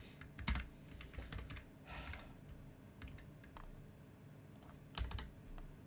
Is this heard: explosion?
no